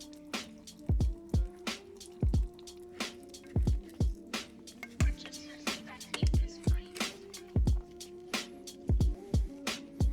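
Engine coolant from a Nissan VQ35DE engine dripping and splashing into a pan during a teardown, a steady run of close, distinct drips at irregular intervals, with no talk.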